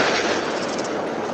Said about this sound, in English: deadly plant explosion earlier today near the Hickman-Humphreys County line